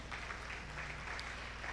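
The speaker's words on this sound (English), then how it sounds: "Please clap for all our awardees." Steady applause from an audience at a Nigerian diaspora day celebration honouring awardees, fairly quiet and continuous with no pauses, no voices standing out.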